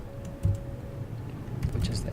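Keys tapped on a computer keyboard while drawing a door in AutoCAD, including a press of the space bar; a few soft clicks sit under low background hum and faint murmuring voice.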